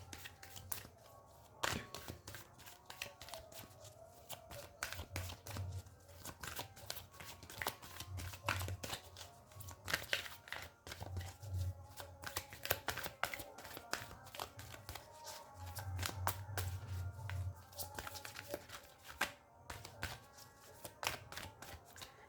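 A deck of tarot cards is shuffled close by in quiet, repeated bursts of crisp riffling and shuffling across the whole stretch, with faint low background hum between bursts.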